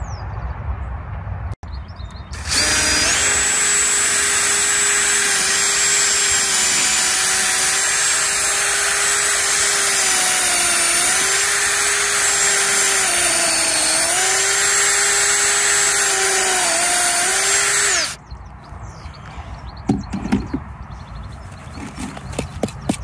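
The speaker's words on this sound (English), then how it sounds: "I'm just drilling holes in some wood for more bee homes" A power drill bores holes into a block of wood for bee homes, a loud continuous whine lasting about fifteen seconds with slight pitch dips under load, outdoors with quiet before and after.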